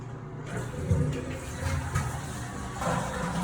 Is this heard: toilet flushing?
yes